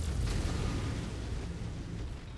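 A satellite uplink explodes in the video game MechWarrior 5: Mercenaries, a loud deep boom that rolls into a sustained low rumble and slowly fades.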